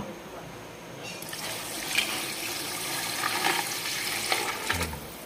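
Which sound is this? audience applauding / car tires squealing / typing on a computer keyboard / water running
water running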